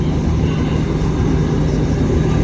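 Passenger train No. 255 pulls into Ban Pong station in Thailand with a loud, steady rumble of wheels and carriages that fills the whole stretch, with no voices.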